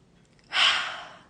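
A single deep breath in, a soft airy inhalation that swells quickly and then slowly fades, close and quiet with no talking.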